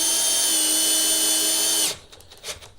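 A Festool CXS cordless drill drives a screw with a steady high-pitched motor whine that stops abruptly, followed by faint clicks and handling noise, heard close up.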